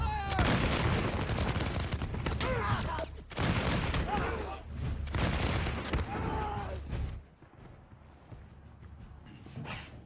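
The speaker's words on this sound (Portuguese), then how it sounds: "Canhões, mosquetões, espadas, flechas, lanças se chocando" Dense bursts of musket fire and booming cannon blasts crackle in clustered volleys, loud and chaotic, then drop away abruptly to a quieter rumble near the end.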